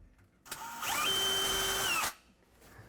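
A power drill drives a screw into a butcher block countertop in one short burst of about a second and a half, its motor whine rising in pitch before stopping abruptly. The drill is close and loud against a quiet room.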